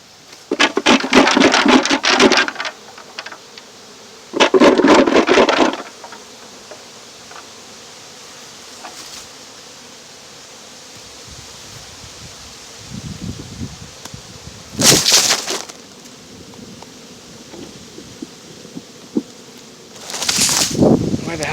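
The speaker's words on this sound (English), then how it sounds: "So I'm going to shake these bees out of this box" Honey bees buzz as they are shaken out of a box, loud bursts of dense humming in several separate waves over a quieter steady drone between shakes.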